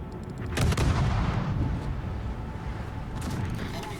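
Naval guns fire in World of Warships, a heavy salvo of booming blasts near the start and another volley later, rumbling over continuous battle noise with no talking.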